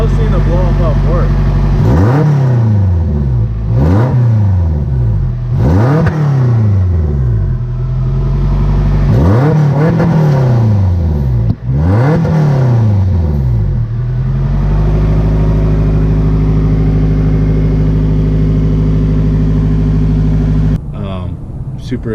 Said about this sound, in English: Gotta rev it up a little bit.